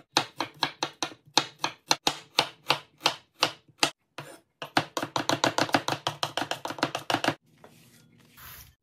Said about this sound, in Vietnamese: Mình sẽ băm hành, tỏi với gừng hết mọi người.